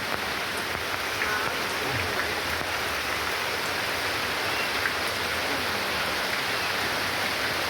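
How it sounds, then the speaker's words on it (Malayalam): Heavy rain pours down steadily, a dense, continuous hiss of drops on surfaces that stays loud and even throughout with no voices. "പക്ഷെ മഴ, പെരും മഴ ഞങ്ങളെ ചതിച്ചു"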